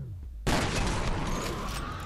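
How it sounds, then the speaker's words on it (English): A mine detonates in the video game F.E.A.R., a sudden loud, close blast that bursts in after a quiet moment and then rolls on as a dense, roaring rumble of debris. "The mine does detonate."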